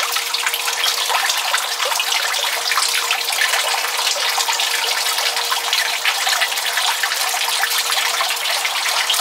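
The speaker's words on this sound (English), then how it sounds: "I just have this fitting on here to direct it towards the other way so we're recirculating colder water in." Water from a pump recirculating through a fitting in a compost-heated greenhouse rushes and splashes in a steady, continuous gush, loud and close without pause.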